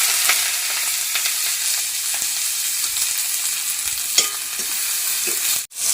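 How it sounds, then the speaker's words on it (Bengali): Chopped green chillies and onion fry in hot oil for a Bengali lote fish chop filling, a steady close sizzle with faint scraping and a brief sharp clatter near the end. "তেলের মধ্যে প্রথমে দিয়ে দেব কুচি করা কাঁচা লঙ্কা আর কুচি কুচি করা পেঁয়াজ"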